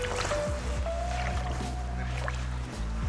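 Bare feet squelch through cold, sticky mud at the edge of the Arctic Ocean near Deadhorse, with wet sucking steps and water sloshing close by under a low steady background.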